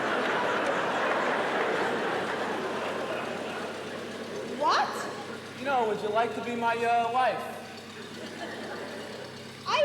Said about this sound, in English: I can't hear you above the engine